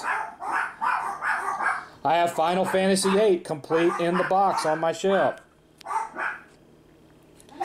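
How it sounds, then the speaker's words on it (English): Several dogs bark in sharp, repeated bursts near the start and again toward the end, with a person talking over and between the barks. "Shut up, dogs!"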